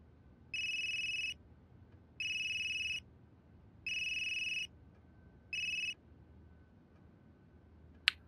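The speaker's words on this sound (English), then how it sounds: "That geezer's phone is ringing." A phone rings in the video game Unheard, four repeated electronic ring bursts at an even rhythm, clear and isolated over a faint hum, followed by a single sharp click.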